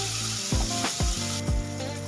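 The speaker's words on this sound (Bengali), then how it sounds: "মশলাটা আমাদের খুব ভালোভাবে কষানো হয়ে গেছে।" Masala sizzles loudly in a pan while being fried down for a soyabean kofta curry, a steady close hiss broken by a few scraping stirs of a spoon.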